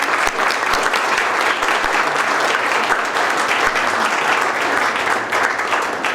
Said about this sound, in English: we'll give a big round of applause to Marilena